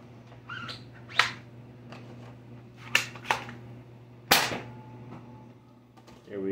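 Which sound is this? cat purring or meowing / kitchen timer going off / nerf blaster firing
nerf blaster firing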